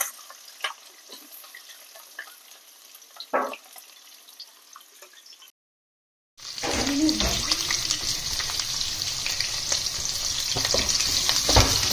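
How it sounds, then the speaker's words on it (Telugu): Onions sizzle and fry in a pan with whole spices and green chillies for biryani-style cooking, a quiet stirring scrape first, then after a brief gap a loud steady sizzle, close by. "ఆనియన్స్ బ్రౌన్ వచ్చేంత వరకు ఫ్రై చేసుకోవాలి"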